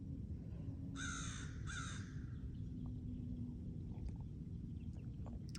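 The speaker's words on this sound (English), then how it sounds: "there's some crow being like loud as heck" A crow caws loudly twice in quick succession near the start, then falls quiet over a steady low outdoor rumble at early morning daybreak.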